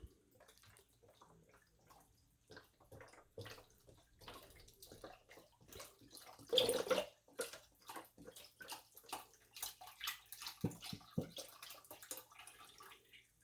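Liquid pours steadily into a crockpot for potato soup with splashing and gurgling, swelling to a louder rush midway before trailing into drips and small splashes, heard close up.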